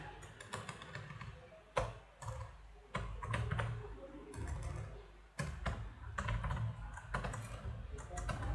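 Code typed on a computer keyboard during a Python file-handling exercise: steady clattering keystrokes with occasional heavier key hits, close and continuous, no one speaking.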